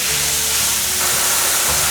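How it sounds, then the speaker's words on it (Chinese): Enoki and shiitake mushrooms stir-fried quickly in a hot pan, giving a loud, steady hiss and sizzle with no voices. "快速翻炒"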